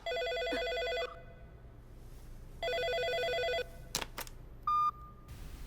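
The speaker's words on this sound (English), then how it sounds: "Give that phone to me." Two long electronic telephone rings, each about a second, separated by a pause, then a few clicks and a short tone, all under faint background noise.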